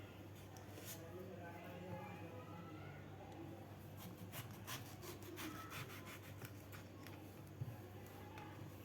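A knife trims the stem off a raw mango with soft scraping and rubbing strokes, fairly faint and close, over a steady low hum, with a few brief clicks near the end.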